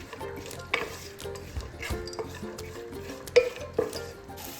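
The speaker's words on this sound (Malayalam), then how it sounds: "അതിനുശേഷം ചുവന്നുള്ളി വറുത്തെടുക്കാം." Shallots frying in hot oil and ghee in a pan, stirred with a spoon, giving a steady close sizzle with scraping stirs and a few sharp clinks of utensil against metal, no talk.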